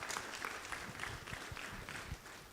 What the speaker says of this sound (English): I want us to give a round of applause to the panelists.